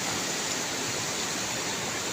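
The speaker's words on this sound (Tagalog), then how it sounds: "Yan, malakas ang tubig sa ilog guys." Strong river water, running high after a flood, makes a continuous broadband rushing hiss, steady and fairly loud with no pauses or talk.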